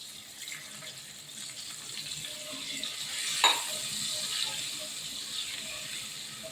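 Water hisses and bubbles into hot oil, a steady sizzling rush with a brief louder splash partway through.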